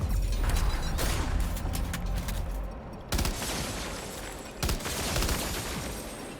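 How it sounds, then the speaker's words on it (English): Rapid bursts of lightweight assault rifle gunfire from the video game Death Stranding 2, with sustained automatic fire and a few sharper separate volleys, loud and close with no talking. "let's go with the lightweight assault rifle"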